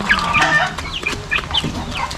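Chickens clucking close by while being fed, several overlapping short clucks and squawks in quick irregular bursts.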